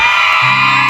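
At a stage show, a packed crowd lets out a loud, continuous whooping cheer, many voices blended into one dense sustained shout with a lower bellow entering midway.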